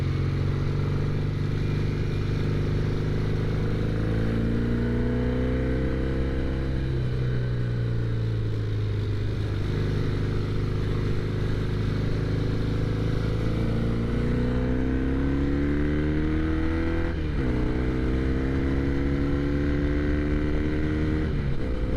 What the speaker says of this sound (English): Norton's not quite warmed up yet